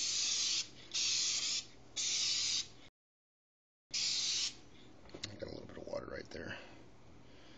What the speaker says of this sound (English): then you just kind of want to spray straight across